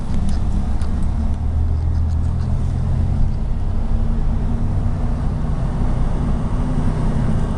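A 1987 Chevrolet pickup truck drives down the road, its engine and road noise forming a steady, loud low rumble that holds evenly throughout with no talking.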